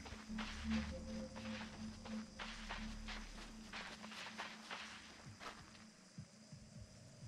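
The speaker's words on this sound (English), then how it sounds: "I heard footsteps." Soft, quick footsteps pattering in the WrongWORLD video game, a run of light steps over a low electronic hum, fairly faint and close, with no talking.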